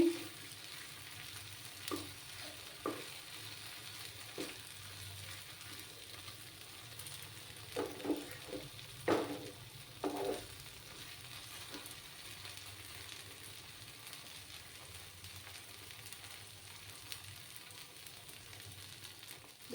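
Mashed bean paste (shim bhorta) fries quietly in a pan with a low steady sizzle, broken by a few scraping stirs and clacks of a spoon against the pan, no voices.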